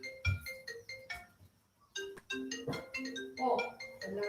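A phone ringtone plays a bright melodic tune of repeated chiming notes, fairly quiet, pausing briefly before the melody resumes.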